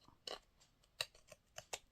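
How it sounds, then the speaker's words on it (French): Scissors snip into a recycled cardboard box, giving five crisp, separate cuts at a steady, unhurried pace. The snips are close but quiet, and no one talks over them. "je vais mettre des petits coups de ciseaux comme ça"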